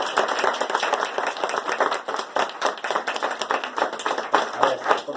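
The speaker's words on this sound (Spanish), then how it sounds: "pues le damos un aplauso al maestro" A gathered audience applauds a teacher at a public meeting, many hands clapping in a lively, fluttering rhythm that stays fairly close and loud, rising and dipping slightly over its length.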